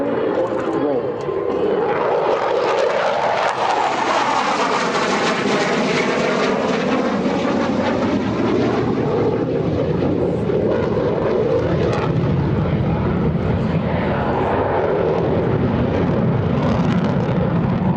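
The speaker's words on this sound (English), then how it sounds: "In from the left, the F-16 has a 420 roll." Roaring F-16C Fighting Falcon fighter jet flying a roll at the EAA AirVenture 2024 air show, loud and sweeping with a pitch shift as it passes, a commentator talking over it.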